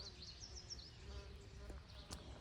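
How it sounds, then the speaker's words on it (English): Faint, close buzzing of bees hovering around salvia flowers in a garden, with wavering high whines drifting in and out over a low, steady background hum. "It's covered in bees."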